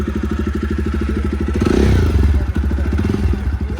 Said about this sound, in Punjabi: ਲੈ ਬਾਈ ਮੋਟਰਸਾਈਕਲ ਦੀ ਆਵਾਜ਼ ਕਰੋ ਚੈੱਕ ਕਿਆ ਪਿਆਰੀ ਆ